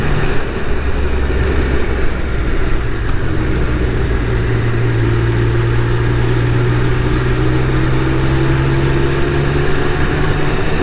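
A Triumph Speed Triple 1200 RR motorcycle riding through countryside, with a steady loud engine drone, a rising tone and constant wind rush, heard continuously without talk.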